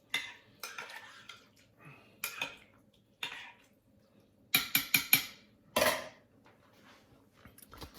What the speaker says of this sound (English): we're going to give this a little stir, see how it looks